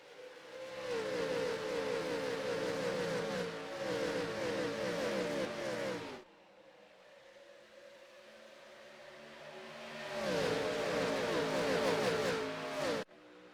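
Race cars at the 2003 Clash at Daytona in a NASCAR racing game roar as they accelerate in a pack, a loud, sustained engine drone that drops away to a quieter hum midway, then surges back to full volume before cutting off.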